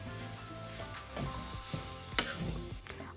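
Chicken and mashed potato cutlet mix stirred in a pan, with soft scraping and a light sizzle, a few distinct spoon knocks against the pan surfacing midway, alone without talk.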